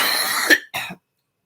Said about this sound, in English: the cough is kind of ruining the stream